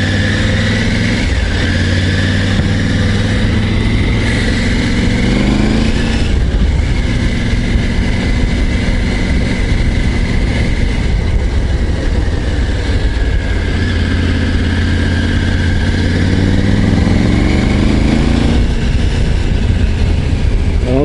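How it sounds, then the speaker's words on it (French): A Triumph Tiger 900 GT Pro 2024 three-cylinder motorcycle with factory quickshifter rides along a rough, broken road, its engine droning loud and continuous with rising and falling revs through gear changes, and heavy wind rumble throughout. "C'est le fameux 3 cylindres T-plein, ils appellent ça."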